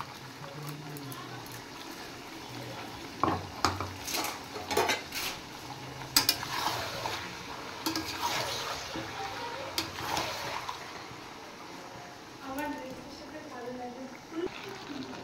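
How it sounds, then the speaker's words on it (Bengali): Meat frying in a pan as ginger-garlic paste goes in and is stirred, with metal utensils clinking and scraping against the cookware in irregular bursts beneath a steady sizzle, while a voice talks over it. "মাংসটা একটু ভেজে নিয়েছি। এবার পেস্ট করে রাখা আদা আর রসুন দিয়ে দিচ্ছি।"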